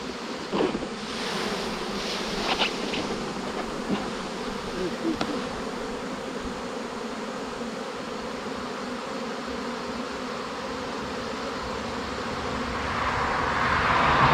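A dense swarm of angry honeybees, taken from a tree, buzzes continuously and intensely close by, a steady agitated drone with no voices.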